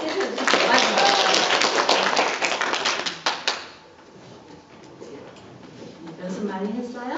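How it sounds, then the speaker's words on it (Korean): An audience at a children's speech contest held at a Korean church school claps for a student, a dense burst of applause for about three and a half seconds that fades out into quiet room tone. "박수로 해주시죠."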